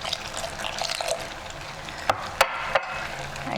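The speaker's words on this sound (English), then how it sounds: "I'm gonna add the milk." Milk pours steadily into peach cobbler batter in a bowl, a continuous liquid splash broken by a few sharp drips or clinks near the end.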